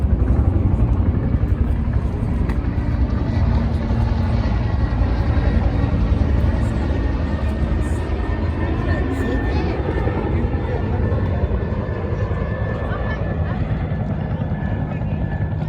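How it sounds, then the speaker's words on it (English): A low-flying police helicopter drones steadily overhead at Washington DC's Tidal Basin with a deep rotor rumble, loud and continuous throughout, with some faint talk mixed in. "Low flying chopper, that's Scout 1."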